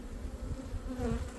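Honeybees hum in a low, steady drone during a beehive inspection, a close buzzing swarm with no voices.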